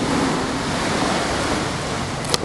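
Sea waves wash onto a beach in a steady, loud, rushing roar, with no voices over it.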